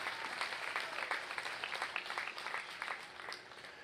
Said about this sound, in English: Give him a nice round of applause for what he's done for the last couple of days.